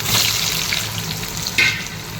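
Potatoes frying in oil in a home kitchen: a steady, close, bright sizzle with small crackles and one sharper spatter burst, no talking.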